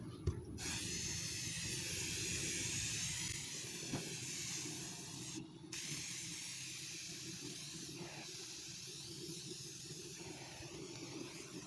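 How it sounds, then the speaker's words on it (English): Silicone spray hissing onto the back of a homemade wooden swing, a long steady aerosol hiss with two short breaks where the nozzle is released, close and fairly even in level. "So now I'm gonna spray the back."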